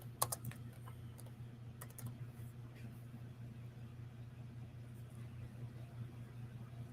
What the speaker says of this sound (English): Sorry, I gotta type it out.